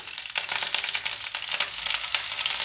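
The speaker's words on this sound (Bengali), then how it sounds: "এবারে দেবো আমি রসুন বাটা।" Garlic paste fries in a hot pan for dal fry, a loud, steady sizzle and crackle with occasional stirring scrapes, close up and without talk.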